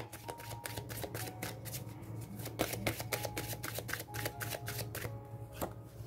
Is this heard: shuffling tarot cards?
yes